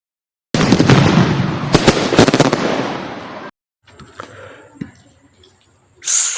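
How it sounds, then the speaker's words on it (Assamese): Rapid crackling bursts of Diwali firecrackers popping loudly up close, then a pause followed by scattered fainter pops and a final sharp burst. "বোমা মাৰি মজা লাগছে একদম"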